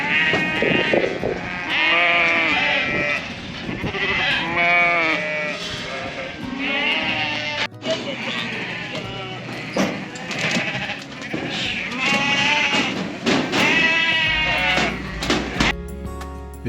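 Sheep bleating almost nonstop at a farm in Yallakar, Victoria, Australia, several wavering calls overlapping close by and loud, with a voice speaking now and then among them.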